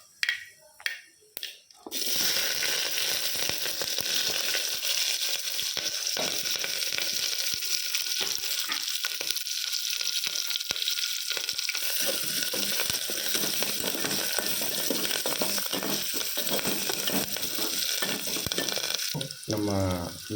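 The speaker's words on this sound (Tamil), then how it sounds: "இப்போ வெங்காயம், கருவேப்பிலை, பச்சை மிளகாயை சேர்த்திக்கலாம்." Onions, curry leaves and green chilies fry in hot oil: steady hiss after a brief clatter at the start, with occasional scraping and crackles throughout.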